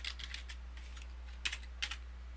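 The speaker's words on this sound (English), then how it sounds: "I can come down here and type a paragraph of text" Typing on a computer keyboard while entering a paragraph into a web editor, quick soft key clicks in short irregular bursts, close but faint over a steady low hum.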